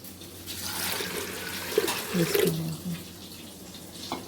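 Water pours into a cooking pot holding lentils with salt, turmeric, chili and garlic-ginger paste, a soft splashing stream that swells briefly and then trails off, faint and close with no talk.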